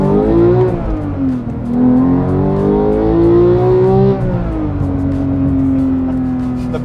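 A Porsche 911 GT3 with a six-speed manual gearbox revs close by while driving, its engine note rising smoothly, dipping with a gear change, then climbing again in a loud, sustained drone.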